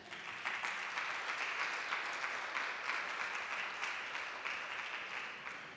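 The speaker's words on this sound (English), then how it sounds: "give your warm applause to Essen" Guests at the Open House Europe launch event clap warmly for the city of Essen, a sustained, even wash of applause at moderate distance with no voices over it.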